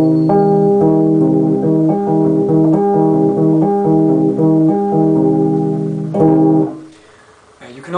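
A minor triad on a fretless bass, notes plucked in a steady repeating pattern with a warm sustained tone, loud and close, stopping abruptly near the end.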